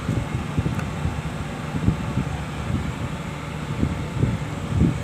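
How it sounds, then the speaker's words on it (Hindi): Inside a Suzuki Mehran that jerks at slow speed from a throttle position sensor signal wire shorted to ground, the air conditioner runs with a steady whooshing fan noise and low rumbling pulses throughout. "अभी मैंने एसी ऑन किया है इसका"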